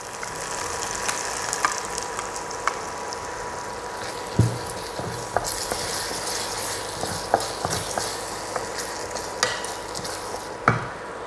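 Steady sizzling and bubbling of a hot pan, with occasional clinks and scrapes as a finely ground paste goes in and gets stirred for a Chettinad curry leaf gravy.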